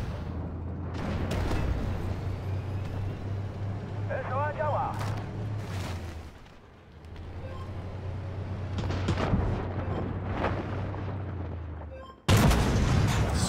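Tank cannon fire in the Armored Warfare video game featuring a T-90: heavy booming shots and engine rumble, with a sharp loud blast near the end, under continuous game noise.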